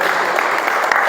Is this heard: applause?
yes